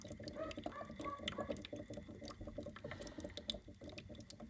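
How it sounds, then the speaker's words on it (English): Water bubbling and gurgling in a boiler condensate trap on an Ideal Logic boiler, a faint, irregular run of small bubbly pops and trickles heard close up. "And there it bubbles away."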